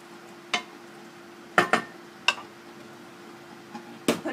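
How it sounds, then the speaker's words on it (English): Potatoes tossed in a covered pan, heard as a handful of separate sharp knocks and rattles spaced irregularly over a quiet background with a faint steady hum, close and fairly soft, without any talking. "I'll give it a little toss around, just to make sure all the potatoes have some stuff on them"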